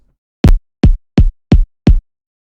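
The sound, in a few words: synthesized kick drum made in Kick 2 plugin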